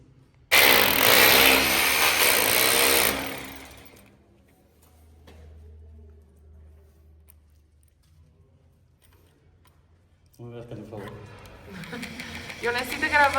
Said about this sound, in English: he's gonna be drilling into the wall so that he can attach the wood piece.